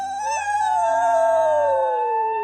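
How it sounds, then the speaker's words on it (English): Two wild dogs let out a long, clear howl that rises at first and then slowly slides down in pitch, close and loud, with no other sound around it. "I hear her howl echoed by two wild dogs"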